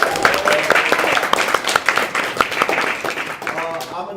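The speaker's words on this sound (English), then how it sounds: "We have Carla, a quick round of applause." A room of people gives Carla a quick round of applause, dense overlapping clapping that runs steadily for a few seconds before thinning out at the end.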